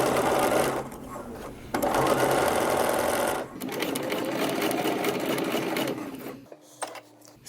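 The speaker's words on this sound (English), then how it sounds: "we are just sewing in our bias now" A sewing machine runs in long, loud bursts while stitching bias binding onto a cotton Laura Ashley style wrap dress (McCall's 8358), with brief pauses between runs and a quieter stop near the end.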